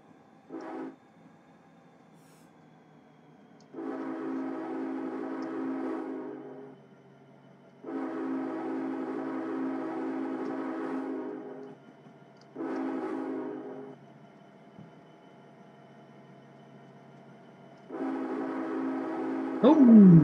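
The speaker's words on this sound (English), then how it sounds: "Alright guys, here comes our train." Union Pacific 1989 locomotive sounds its horn on arrival in Train Simulator 2021, a series of loud, sustained blasts: one short toot, two long ones, another short and a final long blast, separated by quiet rumbling.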